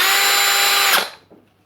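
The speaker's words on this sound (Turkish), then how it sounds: "İkinci viteste alet yüksek devir," A Vonroc 20V cordless drill runs in second gear at high speed, a loud steady whine that spins down and fades over about a second after release.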